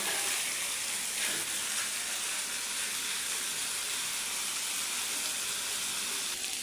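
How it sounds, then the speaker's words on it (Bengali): Pumpkin peel and potato frying in oil while being stirred, a steady dense sizzle and hiss that runs evenly throughout without pause, close and fairly loud, with no voices. "এখন আমি ভালোভাবে নেড়ে চেড়ে নিচ্ছি যাতে তেলের মধ্যে বাজিগুলো নাম লেগেছে"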